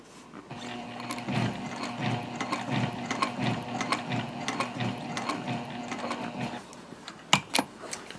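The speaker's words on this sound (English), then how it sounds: "Sew across the bottom." A domestic sewing machine stitches across the bottom of a zip-top tote bag in rapid, mechanical bursts, pausing briefly, then a few sharp clicks near the end.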